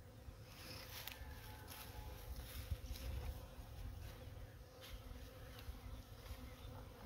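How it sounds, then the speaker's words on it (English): Steady buzzing of many bees close by at a beehive, a dense continuous drone with individual insects flitting past. "These bees have me mesmerized."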